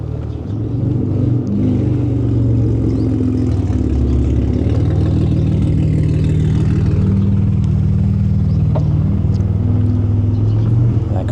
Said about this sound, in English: It's got a very loud muffler.